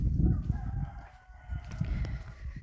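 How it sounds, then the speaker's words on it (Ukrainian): Roosters crow from a short distance in a village at sunset over a low rumbling background, with several overlapping calls rising and falling across a few seconds. "Півні співають."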